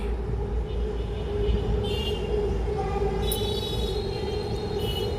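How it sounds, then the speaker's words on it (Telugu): A steady low rumble from a passing train goes on throughout, with faint higher metallic squeals and clatter at intervals. No one speaks. "వచ్చేసింది ట్రైన్ మళ్ళీ."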